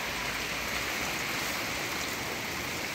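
Heavy rain pours down in a steady, dense hiss with no breaks after a typhoon, an even wash of sound with no voices over it.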